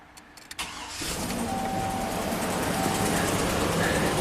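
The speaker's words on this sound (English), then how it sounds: "Is the truck going to fire up?" A pickup truck engine cranks briefly, catches and starts, then settles into a loud, steady running roar nearby.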